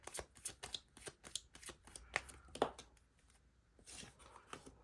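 Tarot cards shuffled by hand in a quick run of crisp riffles and papery flicks, close up and fairly quiet, with no voice.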